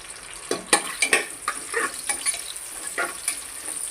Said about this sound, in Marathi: आता आपण ते स्टर करून घेऊया आणि त्यामध्ये आपण हा बारीक चॉप केलेला कांदा त्यामध्ये टाकून घेऊया